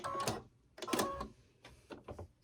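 Home embroidery machine stitching a placement outline on a hooped daffodil coaster, heard as quiet bursts of rapid mechanical needle whirring with short pauses between runs, close by.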